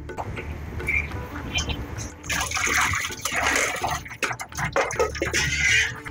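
Boiled ash gourd pieces for morabba are squeezed by hand, water dripping and splashing in a close wet trickle that grows busier and louder partway through, with no talk.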